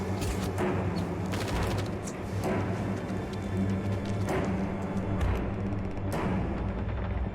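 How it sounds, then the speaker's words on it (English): Gunfire in the horror video game Blair Witch: dense, booming bursts of shots rolling continuously over a heavy rumble, loud and close with no talk. "There's some gunfire."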